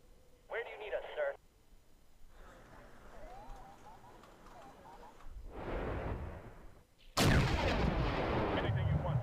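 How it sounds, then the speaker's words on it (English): Artillery shells exploding on enemy positions in a war video game: a short burst of booming fire, a rumbling salvo, then a loud, sustained roar of blasts to the end, with voices over the battle. "why not drop a few shells on the enemy?"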